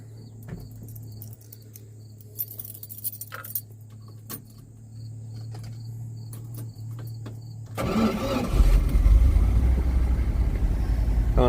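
A 1973 Dodge D300 ramp truck with a 318 V8 sits quietly with faint insect chirps around it, then the engine cranks over in a loud, continuous rough grinding churn at close range.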